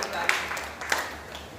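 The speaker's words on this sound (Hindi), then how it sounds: "जोरदार तालियां" Audience applause at a Hindi kavi sammelan poetry gathering, a short burst of scattered clapping with a couple of sharper claps standing out, fairly faint and fading toward the end, with a voice underneath.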